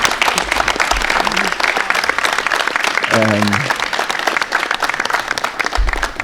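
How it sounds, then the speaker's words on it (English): A crowd at a high school athletic signing for a Youngstown State track and field runner gives a big round of applause, dense and steady throughout, with a brief voice rising over it midway. "So let's give him a big round of applause."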